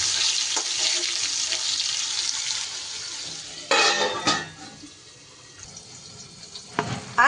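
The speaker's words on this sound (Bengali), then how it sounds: "নাড়িয়ে চাড়িয়ে একটু মিডিয়াম ফ্লেমে আলুটা এমনভাবে ভাজবো যাতে আলুটা বেশ ভালো সিদ্ধও হয়ে যায়।" Potatoes fry under a lid in a pan over a medium flame, giving a steady loud sizzling hiss, broken by a few sharp clinks and clatters of utensils toward the end.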